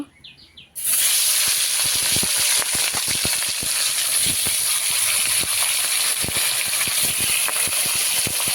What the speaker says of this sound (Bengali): কড়াইতে তেল দিয়ে দিয়েছি গরম হয়ে গেছে এদিকে মাছটাও মাখিয়ে নিয়েছি তো এবার মাছটা